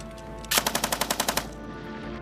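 Soldiers fire guns during a military exercise, letting off a single rapid burst of about ten sharp automatic shots over roughly a second, loud against steady background noise.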